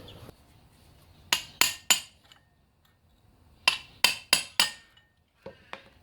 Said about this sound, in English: Just popping off this old ball bearing race, which is almost off.